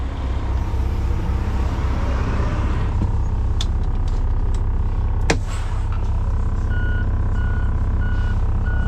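A truck backing in with its reversing beeper sounding a steady series of high beeps over a loud, rumbling diesel engine.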